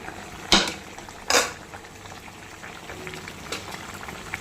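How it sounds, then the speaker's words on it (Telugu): Rice for mutton keema biryani boiling in a covered pot, a soft continuous bubbling hiss broken early by two sharp metallic clanks of a lid or pot. "ఒక 5 మినిట్స్ మూత పెట్టేసుకొని బాగా ఉడకనిచ్చుకోవాలి."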